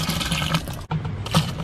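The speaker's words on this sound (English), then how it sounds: "I'm adding tender coconut water." Tender coconut water splashes and gushes steadily into a mixture for homemade Panchagavya, with a brief gap midway before the flow resumes, and no voices.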